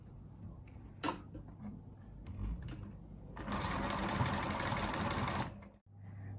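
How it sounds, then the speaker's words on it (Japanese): A domestic sewing machine stitches once around a blouse sleeve cuff, with a few clicks and handling knocks before a steady, fast whirring run of stitching that stops abruptly. "待ち針を留めたら袖口を一周ミシンで縫っていきます。"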